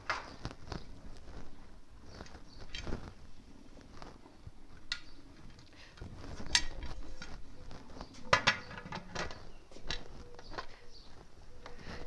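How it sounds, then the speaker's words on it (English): A heavy metal lid handled and set onto a pressure canner filled with jars of pulled pork, close clanks and scrapes of metal with scattered clinks over several seconds. "So now I'm going to put the lid on."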